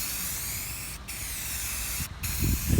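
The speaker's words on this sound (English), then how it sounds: "Just gonna spray some semi-gloss on here." A spray can applying semi-gloss paint to prepped parts of a 1965 Dodge D500 outdoors: a loud, steady hiss, cut off by two brief pauses between passes, with some low wind rumble toward the end.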